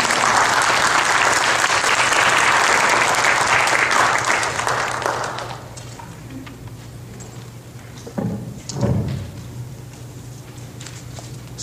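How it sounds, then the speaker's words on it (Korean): A Korean church congregation applauds to welcome a missionary, steady dense clapping for about five seconds that fades out, followed by quiet room tone with a few soft thumps and shuffles. "환영하는 마음으로 박수 드리겠습니다."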